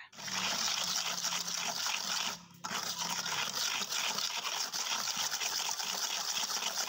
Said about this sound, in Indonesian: Kemudian kita masukkan 2 saset SKM, lalu kita aduk lagi sampai tercampur rata.